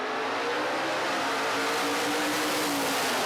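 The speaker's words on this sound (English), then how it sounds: "just waiting for the burnout, Mark Hudson in his Ford Capri" A Ford Capri drag car doing a burnout at the NZ Nationals drag racing event, a loud, dense, unbroken roar of engine and spinning tyres sustained for several seconds, no voices.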